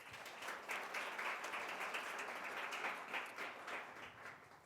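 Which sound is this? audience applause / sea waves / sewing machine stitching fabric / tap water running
audience applause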